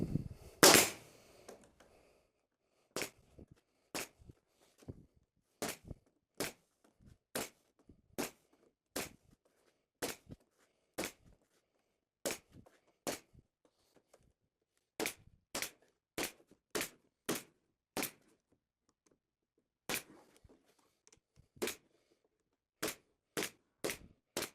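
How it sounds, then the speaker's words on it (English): A staple gun fires around the edges of a wooden frame holding a dry erase board, with about two dozen sharp, snappy shots in an irregular rhythm and quiet handling between them, close and clear. "I'm just going to staple around the edges now"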